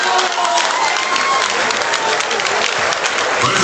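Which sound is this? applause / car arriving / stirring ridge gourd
applause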